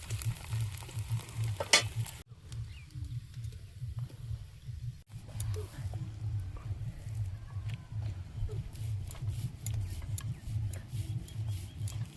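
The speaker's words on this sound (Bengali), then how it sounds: "এইভাবে ভেজে নেব" Mixed garden vegetables fry in a pan with a continuous low sizzle and occasional soft scraping from stirring, heard close with no talking and two brief drop-outs in the sound.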